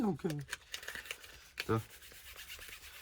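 Fine-grit sandpaper rubbing over wood with steady back-and-forth strokes, close and moderately loud, with short bursts of a voice near the start and middle.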